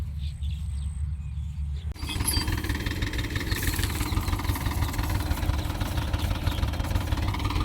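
Tractor engine idling in a field beside a stuck tractor-trolley due to be towed out, a steady low rumbling chug that grows louder after a brief quieter opening, continuing alone without talk.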